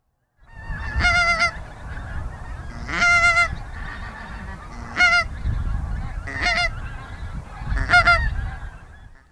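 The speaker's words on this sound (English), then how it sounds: "there are many skeins of geese out here in the Scottish borders" A skein of wild geese flying in over the Scottish borders during a goose-flighting outing, honking in repeated loud bursts of overlapping calls over a steady low rumble of wind, with no talking.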